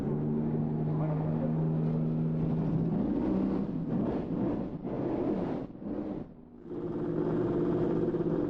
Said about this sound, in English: first away is the BMW, followed by the Toyotas, the open-top Audis, the Mercedes, and the rest of the field